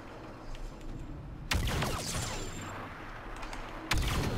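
Sniper rifle fire in the video game Star Wars Battlefront 2 on the Hoth map: two sharp loud shots about two seconds apart, each followed by a rumbling battle tail amid background game sounds.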